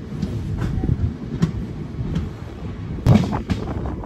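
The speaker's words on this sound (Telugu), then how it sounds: "దిగ్గు మన బండి మళ్ళీ స్టార్ట్ అయిపోయింది" Guntur Express passenger train pulling away again and picking up speed, heard from inside: rumbling carriage noise with irregular clunks and rail joint knocks, one sharper bang near the end.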